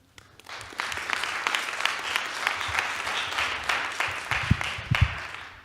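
Audience applause for a speaker at a conference journal-track session, a steady mass of clapping from a seated crowd that swells in and holds through the clip with a few louder nearby claps.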